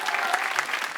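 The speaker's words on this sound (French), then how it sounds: "Applaudissez-le encore, s'il vous plaît." A comedy club audience at the Jamel Comedy Club claps for a stand-up comic, giving a dense, steady wash of applause that holds without a break.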